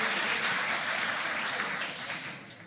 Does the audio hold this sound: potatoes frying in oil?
no